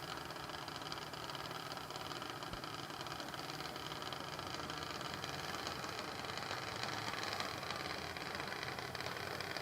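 Junior dragster engines idle at the start line of a drag racing semi-final, a steady mid-pitched engine rumble with light vibration that holds at an even level throughout, no voices.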